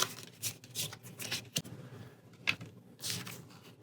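Playing cards from a Pathfinder adventure card game shuffled by hand at close range, in several soft riffling bursts separated by brief pauses.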